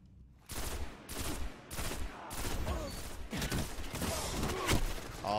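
Repeated bursts of automatic gunfire in the Destiny video game, loud and close, firing in rhythmic volleys roughly every half second with brief gaps between, no voices present.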